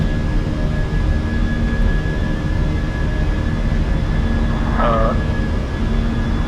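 A Fenix A320 airliner in a flight simulator climbs after takeoff at dusk from Corfu, giving a steady, loud engine roar with a constant tonal whine throughout and a brief warbling tone near the end.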